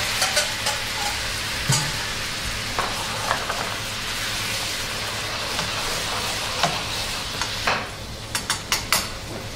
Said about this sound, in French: Le fond de cuisson que j'ai réalisé tout à l'heure, qui est fait avec les parures du veau, et on va déglacer